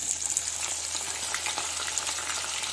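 Onion going into hot oil with garlic for a Kashmiri shaljam rajma tadka, giving a steady, close frying sizzle with soft crackle that holds evenly throughout.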